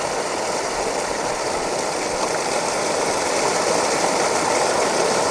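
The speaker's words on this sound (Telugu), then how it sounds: "మీ మోటార్ స్టార్ట్ అయినది." A farm well's water pump motor, switched on by a mobile starter, runs with a constant, even mechanical hum and rushing noise that holds steady throughout, close and fairly loud, with no speech.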